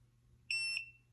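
A Calogy heat press timer gives one loud, shrill electronic beep lasting about a quarter second, followed by a brief second chirp, alone over a low background hum.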